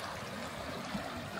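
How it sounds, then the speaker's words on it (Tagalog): Gurgling, trickling water of a stream near a mountain lake in Canada, a continuous soft babbling wash heard close and steady with no talking. "Lalo maririnig mo yung lagaslas ng tubig na yan."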